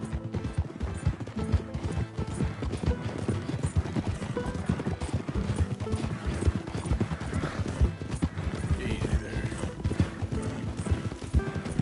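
Steady hoof clops from a donkey in Red Dead Redemption 2 keep a continuous trotting rhythm up close, mixed with ambient game sound and a brief spoken line.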